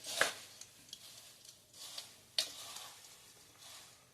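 Flattened rice (poha) is mixed with metkut, sugar and salt, giving soft scattered rustling and scraping strokes at a quiet, close level, with a few sharper crisp accents.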